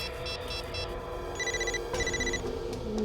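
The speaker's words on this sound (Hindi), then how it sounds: "फोन कहां बज रहा है?" A telephone rings in a drawer in an office, repeated electronic bell bursts in short pulses over a low background hum, moderately loud and close.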